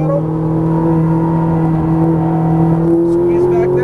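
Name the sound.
Ferrari 458 Italia engine accelerating on a race track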